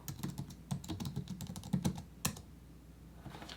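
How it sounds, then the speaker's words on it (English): Fingers tap quickly on a computer keyboard, a burst of close, crisp keystrokes that trails off into a few last taps. "all you have to do is type in scrapbook letter."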